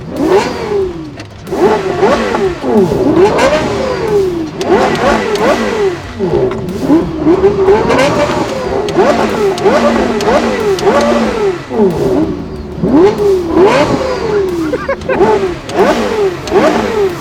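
Engines of a Lexus LFA, Porsche Carrera GT and Audi RS3 roar and climb in pitch again and again through quick gear changes in a drag race, a long stretch of hard, loud acceleration.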